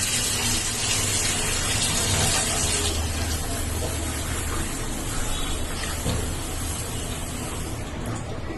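Moth beans and chana dal being washed in water, a steady, loud rush of running, splashing water that continues throughout with no pause.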